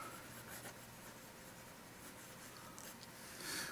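A Platinum Prefounte fountain pen with a medium nib scratches softly across paper in short, continuous strokes, faint and close, with no talk.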